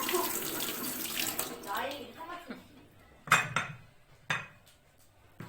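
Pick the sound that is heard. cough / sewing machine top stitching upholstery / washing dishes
washing dishes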